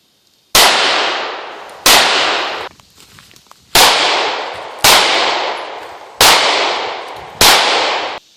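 A Kahr CW9 9mm pistol fires six loud, sharp shots, each spaced about a second apart with a short echoing decay, and a longer pause falls after the second shot.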